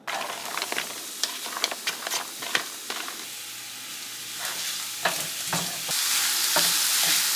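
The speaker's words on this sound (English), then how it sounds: "I'm just gonna cook them in the same pan that I cooked the chorizo in" Onions fry in a pan still greasy from cooked chorizo, crackling and sizzling close up with frequent spatter pops and occasional stirring scrapes, the hiss swelling louder near the end, no one talking.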